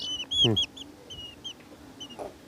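Young chicks chirping and clucking up close, several bright peeps in quick bursts, with a short squawk and faint voices in the background.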